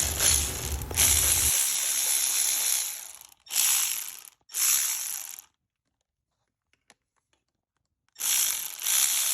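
A hand ratchet on an extension clicks rapidly as it works a 12mm bolt loose on a vehicle, in several close, loud bursts separated by pauses and a stretch of near silence.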